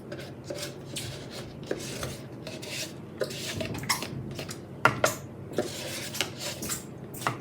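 Leftover kiln wash for glass-fusing shelves scraped from the bottom of a container, a close, irregular run of rasping scrapes and small knocks.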